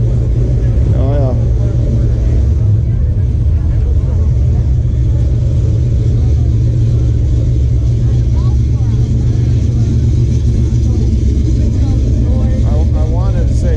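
Car engines revving at an outdoor car show, a heavy, constant low rumble that rises and falls, with people talking close by over the noise.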